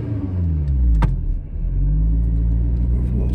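A Honda Civic FN2 Type R fitted with a Hybrid Racing cold air intake drives along, its engine droning with a deep steady rumble and a brief rev surge partway through, heard close up from inside the car.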